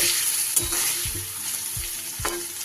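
Paneer cubes with chilli frying in oil in a wok, a steady bright sizzle broken by a few soft scraping stirs of the spatula, close and continuous with no talking.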